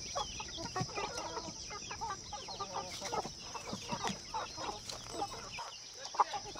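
Free-range country chickens on a farm cluck steadily and close by, with overlapping calls from several birds and occasional louder squawks, and no talk over them.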